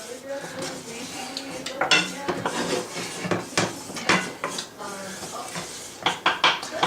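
About half a tablespoon of margarine dropped into a pan and pushed around with a utensil, giving repeated clinks and scrapes of metal against the pan, close and fairly loud.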